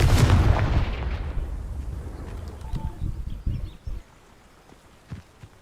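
Confringo blasting spell explosion in a Harry Potter video game: one loud, deep boom at the start that fades out, followed by scattered softer thuds and pops.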